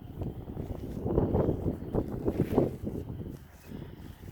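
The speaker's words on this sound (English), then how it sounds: "But with this wind, it's kind of limited." Wind buffets a campsite while a Stansport Scout two-person backpacking tent is taken down. The low, gusty rumble swells and fades, with soft rustling and no voices.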